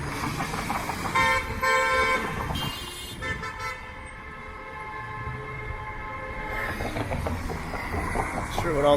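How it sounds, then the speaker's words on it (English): Car horns honking on a downtown Toronto street near a 510 Spadina streetcar, several loud toots with steady city traffic noise around them and some voices in between. "Not sure what all the honking is about."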